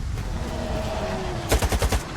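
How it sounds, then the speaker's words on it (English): Gunfire in STALKER 2: after a steady droning ambience, a sharp burst of about six rapid shots rings out close and loud near the end. "We're taking fire."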